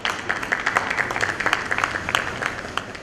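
Audience applause at a seminar on metal as an eco-friendly packaging material, a steady wash of many hands clapping at moderate distance, sustained evenly throughout without talk.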